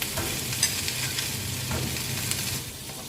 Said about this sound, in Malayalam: ഈ ചേരുവകളെല്ലാം കൂടി ഇളക്കി യോജിപ്പിക്കുക.